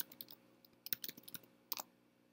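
Someone types a short burst on a computer keyboard, entering an email address in a Zoho Creator settings form. The key clicks are quiet and uneven, close by, and come in small clusters in a near-silent room.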